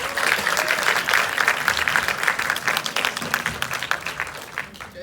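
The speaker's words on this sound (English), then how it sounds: "a round of applause for our filmmakers." Applause from a post-screening audience for the filmmakers at the 2019 BAFF Spring Edition, a full burst of clapping that stays lively throughout and thins out toward the close.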